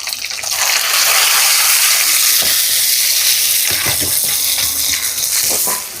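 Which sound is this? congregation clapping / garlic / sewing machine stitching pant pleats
garlic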